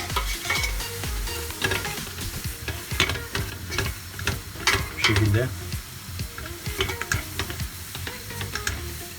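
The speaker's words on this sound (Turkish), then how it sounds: "kavurmaya devam ediyoruz. Yaklaşık 6-7 dakika kavuracağız." Steady scraping and stirring of flour roasting in a pan with a soft sizzle underneath, utensil strokes repeating throughout, with a brief spoken remark near the end.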